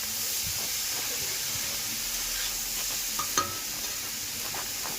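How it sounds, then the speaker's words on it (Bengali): Cabbage and potato with onion frying in oil in a wok, a steady close sizzle and hiss with occasional scraping stirs and a soft clack near the middle, no talking. "এখানে আমাদের ভাজা হচ্ছে"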